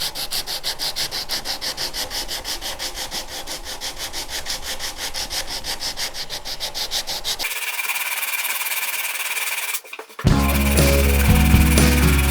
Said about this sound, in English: I'm just going to use the same 60 grit sanding disc as I had before on the same block